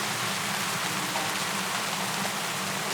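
Steady rain pours down in a dense, even hiss over a wartime camp, soft and unbroken throughout with no voices.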